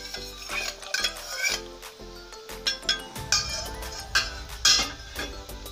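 A bamboo paddle stirs a pot of water coming to a boil for ragi kali, giving close wooden knocks and clinks against the pot with a rising simmering bubble underneath, no talking.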